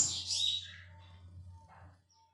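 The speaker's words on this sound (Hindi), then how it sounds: "सुन रहे हैं चिड़ियों की चहचहाट" Birds chirp at dawn in a quiet, peaceful outdoor spot, a few faint high tweets and calls over a low steady hum, fading toward the end.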